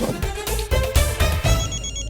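A phone ringtone plays loudly and close, a repeating musical ring pattern with no voices.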